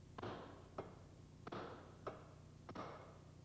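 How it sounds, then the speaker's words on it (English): Caulking chisel struck against the inner race of a bearing on a vertical shaft during dismantling of a self-priming ejector pump: four sharp metallic taps, evenly spaced about half a second to a second apart, close and clear with a ringing tail. "tap the bearing inner race with a caulking chisel and take off the bearing"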